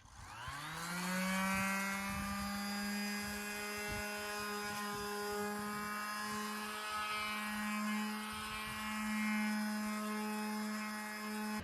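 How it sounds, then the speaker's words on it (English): A palm sander works over a wooden furniture piece, a steady high-pitched motor whine with rich harmonics and faint scratchy grinding underneath, close and continuous with no voices. "When you have a palm sander, you don't want to sand too hard because you don't want to take away the detailing."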